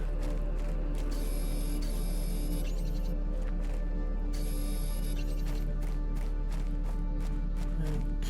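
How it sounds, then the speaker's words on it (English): A steady mechanical whirring hum from a handheld vacuum sucking up dolomite in Planet Crafter, continuous with intermittent high whines and clicking pulses, no talk. "let's hoover up some dolomite"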